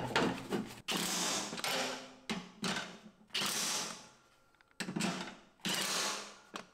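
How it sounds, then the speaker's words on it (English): An impact gun drives bolts on the pulley of a Craftsman LT 1000 42-inch mower deck in about six short, loud rattling bursts separated by brief pauses, close up with no talking. "I'm just gonna get them all down as far as I can by hand before I hit it with the impact gun"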